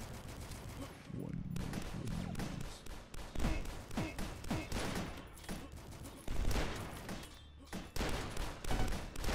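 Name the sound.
gunfire in Dusk video game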